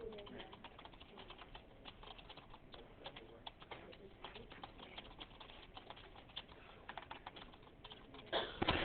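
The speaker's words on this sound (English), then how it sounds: "I do better off typing that way." Steady clicking of typing on a computer keyboard, fairly close and continuous, with a faint cooing bird in the background.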